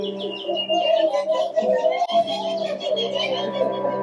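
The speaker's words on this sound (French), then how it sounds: "Il entendit les oiseaux rigoler au-dessus de sa tête." Birds chirping and cooing as a theatre sound effect in a stage production of Pinocchio, a loud, steady chorus of tweets and warbling calls over a soft sustained tone.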